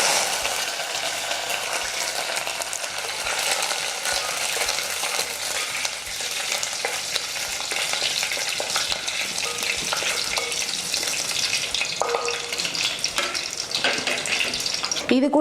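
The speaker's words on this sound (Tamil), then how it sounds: "கடுகு வெடிச்சதும் ஒரு கொத்து கருவேப்பிலை போடலாம்." Curry leaves and mustard seeds crackle and sizzle loudly in hot coconut oil, a dense continuous frying hiss with sharp pops running steadily throughout.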